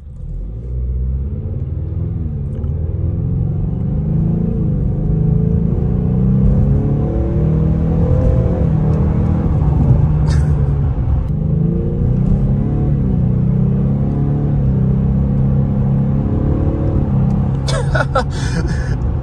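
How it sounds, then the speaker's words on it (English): A 2024 Ford Mustang EcoBoost with a 10-speed automatic rumbles from inside the cabin, a loud low drone rising and falling through gear changes, with a few faint clicks toward the end. "I know you hear this engine. It sounds all sorts of wild."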